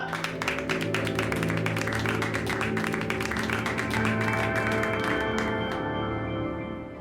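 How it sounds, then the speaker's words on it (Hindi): A classroom of students claps for a classmate who topped the class, a busy patter of many hands that stays loud and even for several seconds, then thins out and fades near the end. "तालियां।"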